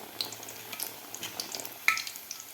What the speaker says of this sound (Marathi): अशा प्रकारे व्यवस्थित आपल्याला दोन्ही साईडकडून हा ब्रेड तळून घ्यायचा आहे